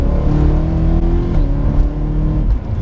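A supercharged 625 bhp BMW E92 M3 accelerating, heard from the driver's seat, with a loud, steady engine drone rising in pitch through the run and no talking.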